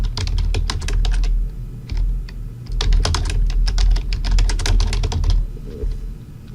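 Quick bursts of clicking keystrokes on a computer keyboard, close and clear, in uneven runs with short pauses between them, with no talking.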